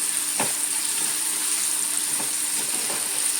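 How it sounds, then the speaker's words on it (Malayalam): Small pieces of ripe plantain fry in hot ghee, giving a steady, close, hissing sizzle with a few soft pops and bubbles throughout. "പഴുത്ത ഏത്തക്കായ ചെറിയ ചെറിയ കഷ്ണങ്ങളാക്കിയിട്ട് വേണം ഫ്രൈ ചെയ്ത്."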